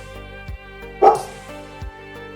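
In the video game Arcade Spirits, a dog gives a single sharp bark over a steady, droning background tone.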